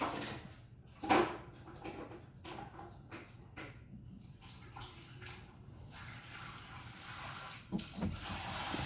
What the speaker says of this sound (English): Like, turn the water off.